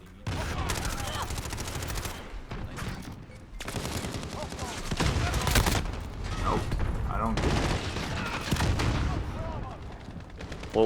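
MP5 submachine gun fire in the Call of Duty video game, repeated rapid bursts of shots in several volleys, mixed with other game sounds and some talk.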